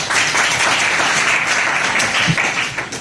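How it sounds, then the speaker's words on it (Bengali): Seventh-grade classroom students clapping together, a dense, loud round of applause that holds steady for about three seconds before tapering off. "সবাই হাততালি দাও"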